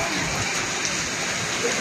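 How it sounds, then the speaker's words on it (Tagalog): Heavy rain pouring down in a steady, dense hiss that stays loud and unbroken throughout, with no talking over it. "Sobrang lakas talaga ng ulan."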